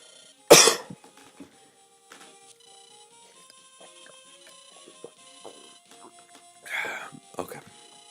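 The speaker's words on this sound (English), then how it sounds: "Try not to cough as much this time." A game walkthrough narrator coughs once, loud and close, followed by quieter scattered mouth noises and small sounds, then a second rougher cough or throat clearing near the end.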